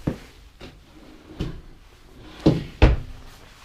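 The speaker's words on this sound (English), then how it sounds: "Full extension ball bearing drawer guides." A full-extension ball-bearing drawer in a park model tiny house slides and knocks shut several times, with soft sliding runs and a few sharper wooden thumps close by.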